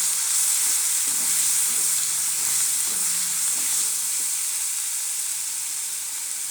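Meat with chili paste, turmeric and salt fries in a pan while being stirred, giving a loud, steady sizzle with soft scraping strokes running throughout and no voices.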